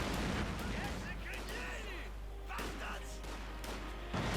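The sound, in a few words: artillery barrage in Company of Heroes 2 video game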